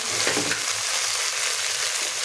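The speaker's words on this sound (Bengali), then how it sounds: "হলুদ মশলাটা ভালো করে তেলে ভেজে নেবো, কষে নেবো।" Turmeric spice mix fries in hot oil, a close, steady sizzle with some stirring scrapes underneath.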